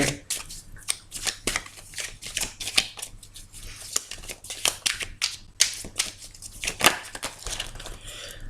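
Tarot cards shuffled by hand in a steady run of crisp riffling flicks and soft slaps, close and moderately loud with no talking.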